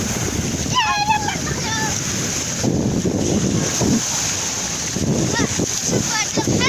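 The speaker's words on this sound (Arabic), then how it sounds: "شوفوا هاد البحر فيه الحجورة" Sea waves at the rocky beach of Sidi Ali, a continuous rushing wash with heavy wind buffeting the microphone, close and loud, with shouts and voices mixed in.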